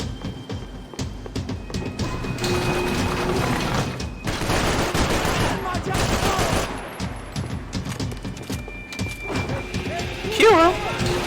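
Gunfire in the video game Max Payne 3, a dense run of shots and bursts through a busy, loud mix with a voice in Spanish speaking over the action.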